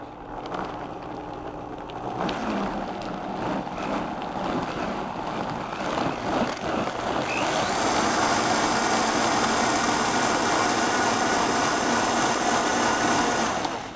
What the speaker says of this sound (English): I'm going to go ahead and blend it down